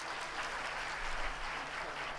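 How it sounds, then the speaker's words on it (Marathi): An audience at a Maharashtra Geet memorial lecture applauds, a steady dense wash of clapping filling the whole stretch at a moderate distance. "मी उपस्थितांना सर्वांना म्हणतो की एकदा टाळ्यांचा आवाज जोरात आला पाहिजे."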